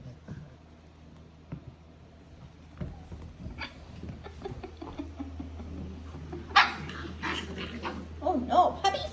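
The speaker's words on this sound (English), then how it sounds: "Oh no, puppy fight?" Puppies scuffling indoors, with small yips, whimpers and short growly bursts that grow busier toward the end, while someone talks over the quiet room.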